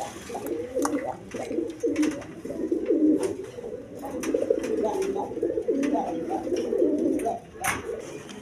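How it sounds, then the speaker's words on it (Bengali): A pair of Kaldum pigeons coo close by in repeated soft, throaty bursts across several seconds, with scattered clicks and faint background noise. "দর্শক এইখানে আরেক পেয়ার কালদম কবুতর আছে"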